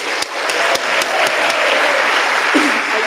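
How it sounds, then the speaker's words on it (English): A crowd applauds the club president, Sue, at a volunteer-run gathering, with steady, dense clapping held loud for about three seconds and a few sharper claps near the start. "And now we have a round of applause for Sue,"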